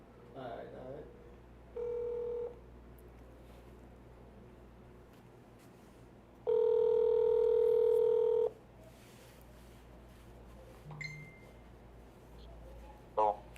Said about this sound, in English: All right, I'll call you right now, Nigel.